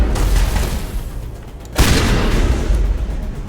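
A shotgun blast in Mass Effect Legendary Edition booms loudly and close, a single sharp report cutting through continuous battle noise.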